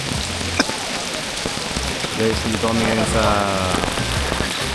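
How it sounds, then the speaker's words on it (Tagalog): Heavy rain drums steadily on a tent at a hippie festival, a dense, close hiss that runs the whole time, with a person talking over it. "Kasi lakas ng ulan."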